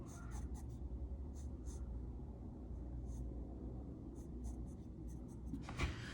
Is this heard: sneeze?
no